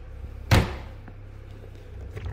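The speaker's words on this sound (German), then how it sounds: "Ich mache noch mal die Tür zu." The door of a motorhome prepared for a Panamericana world trip swings shut with one sharp, close thud, then quiet background hum.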